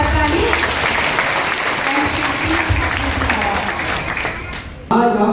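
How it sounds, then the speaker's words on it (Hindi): Loud, sustained applause from an audience at a Brahmakumaris road-safety awareness rally in Karsog, filling the whole stretch before cutting off abruptly near the end, with some voices mixed in. "तो बजा दो इस धन्यवाद के लिए जोरदार ताली"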